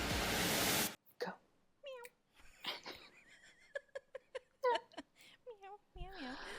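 A human voice imitates a cat with a run of short, rising and falling meows, close and fairly loud, after a burst of noise at the start.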